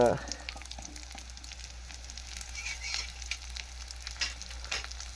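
Chopped raw mango and curry leaves fry in a pan, crackling and sizzling steadily at a moderate level, with small bursts as the pieces are stirred.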